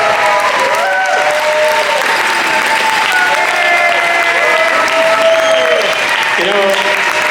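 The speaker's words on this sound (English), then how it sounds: "And one more round of applause, folks." Audience applause at the Classic Tetris semi-finals at the SoCal Gaming Expo 2025, loud, dense and sustained clapping from a crowd in a hall, steady throughout, with faint talk and crowd noise beneath.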